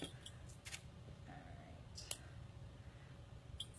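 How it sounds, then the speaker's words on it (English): Small nipper cutters by Dazzle It snipping through bracelet pieces, a few faint, crisp clicks spaced apart over a quiet background. "These are just a fine little nipper here by Dazzle It."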